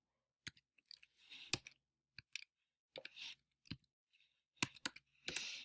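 A computer mouse clicks sparsely while someone works through a Zoom login, giving short, sharp, close ticks, single and in small clusters, separated by quiet gaps.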